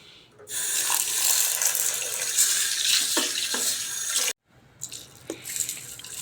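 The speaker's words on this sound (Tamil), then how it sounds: "நல்லா தண்ணி ஊற்றி ஊற வச்சுக்கலாம்" Water is poured steadily over green gram and chickpeas set to soak, a loud, close splashing stream lasting about four seconds that stops abruptly, followed by a few small drips and clinks.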